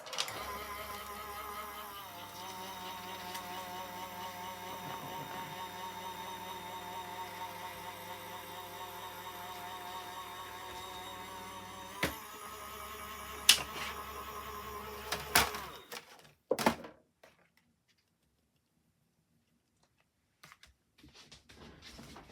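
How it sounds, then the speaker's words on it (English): A greeting card cranked through a die-cutting embossing machine, giving a steady mechanical whirring and grinding hum for about fifteen seconds, ending in a few louder clunks and clicks before near silence. "that is going to go through the embossing, the die machine now to emboss it"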